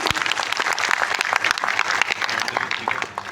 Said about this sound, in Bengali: আমি ওনার জন্য একটা করতালি ডেডিকেট চাচ্ছি আপনাদের কাছে